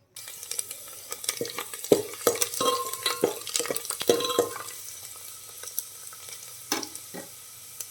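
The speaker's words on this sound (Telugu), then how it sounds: "ఒక గిన్నెలో నూనె వేసుకొని అది వేడైన తర్వాత ఆవాలు, జీలకర్ర, వెల్లుల్లి వేసుకొని వేయించుకోవాలి" Mustard seeds, cumin and garlic spitting in hot oil in a pot, with a spoon clacking and scraping in a quick run of strokes over a soft sizzle, then fewer strokes, close and clear, with no talking.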